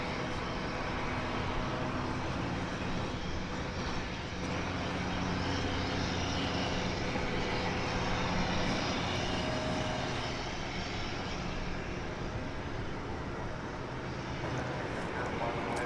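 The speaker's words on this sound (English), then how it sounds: "That's what this aircraft's getting ready to take off on." An airliner at DFW Airport readying for takeoff on the runway, a steady distant engine roar and rumble lasting throughout, with a voice speaking over it.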